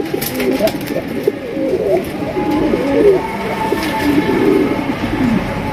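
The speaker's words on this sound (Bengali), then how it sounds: "অস্থির একজোড়া কালারিং রাসগোল্লা কবুতর, এক কথায় দেখার মতো। ডাক তো আপনারা দেখতেই পাচ্ছেন" A pair of fancy Rasgolla pigeons coo steadily and close by, their soft, rolling calls continuing without a break over a constant background murmur.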